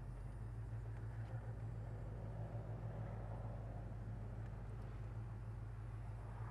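1968 Oldsmobile 442 engine idling while stopped with the foot on the brake, a quiet, steady low rumble with an even throb and nothing else over it.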